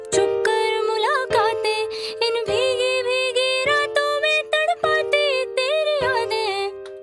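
Chords in FL Studio with their high notes moved down an octave, playing as warm sustained pads under a bending melodic vocal-like line, moderately loud and continuous with short breaks between chord changes.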